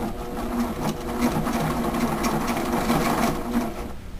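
A sewing machine stitches a zipper into fabric, running steadily and loudly at close range with a continuous mechanical whir and needle rattle, and no voices.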